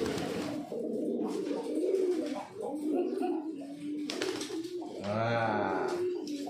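Several homing pigeons coo nearby in soft, throaty, repeated rolling calls, with a louder burbling coo toward the end.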